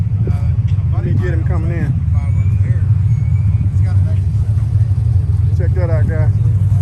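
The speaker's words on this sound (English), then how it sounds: "Oh, I hear something nasty coming up here. Sound like a Z28." A Chevrolet Camaro Z28 arriving at a morning car show in Midwest City, Oklahoma: a loud, steady, deep engine rumble that holds throughout, with someone talking excitedly over it.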